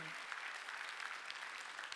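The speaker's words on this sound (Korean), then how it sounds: "박수로 하나님께 영광을 돌려야 된다는 거예요." A church congregation at a Sunday worship service claps together in a dense, even wash of applause, heard faintly from a distance.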